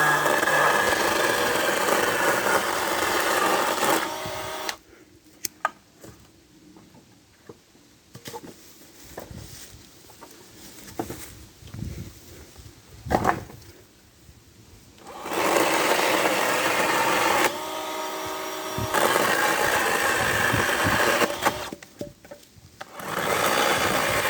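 A Parkside chainsaw cutting Euro pallets into firewood, loud buzzing bursts of cutting alternating with quieter idling and handling noises over several passes.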